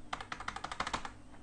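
A quick burst of keystrokes on a computer keyboard, about a dozen close clicks that then stop, with no voices.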